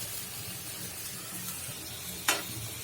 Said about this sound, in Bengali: এখন আমি ভেজে রাখা মাছ কুমড়াগুলো দিয়ে দিচ্ছি।